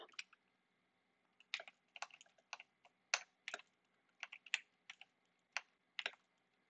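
Bursts of computer keyboard typing, close and fairly quiet, in uneven clusters of rapid key clicks separated by short pauses, with no voices.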